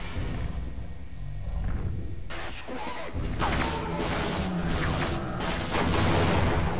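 Trip mines explode on Marines in Half-Life: a series of sharp, bright blasts and crashing bursts, several in quick succession, ring out over a constant low game hum, with no talk.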